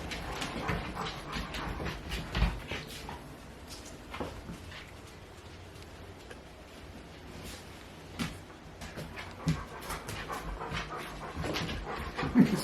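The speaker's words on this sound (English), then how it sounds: "These dogs are so funny." Dogs panting steadily and fairly close, with a few soft whimpers, in a house in Pacific Palisades; the breathing runs continuously through the clip with no talk over it.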